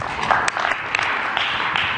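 An audience at a group event gives a steady round of applause, a continuous dense patter of many hands clapping at close range, with a few sharper claps standing out.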